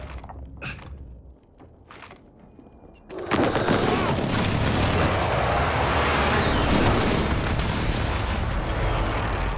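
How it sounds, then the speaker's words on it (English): Airstrike explosions in a first-person shooter video game, a few sharp distant pops at first, then a sudden loud continuous roar of blasts and rumble that holds to the end, with no talk over it. "Detected airstrike inbound."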